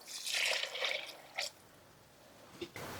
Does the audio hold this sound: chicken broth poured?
yes